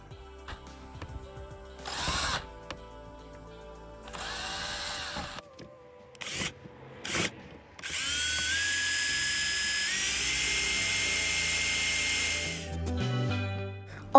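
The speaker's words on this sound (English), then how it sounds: "I needed to continue drilling." A power drill whines in short bursts through stuck plastic on a Raspberry Pi game console case, then runs in one long, steady, high-pitched stretch, loud and close with pauses between runs.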